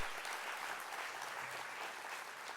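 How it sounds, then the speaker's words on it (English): Steady applause from an audience at an arts council anniversary event fills the whole stretch, a dense, even wash of many hands clapping at moderate distance with no voices over it. "huge round of applause to them"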